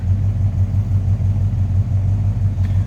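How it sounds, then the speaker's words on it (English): A 1966 Chevrolet C10 short-box pickup with a 327 V8 idles close by in a deep, steady, throbbing low rumble that holds even throughout. "Nice little rumble coming out of that 327."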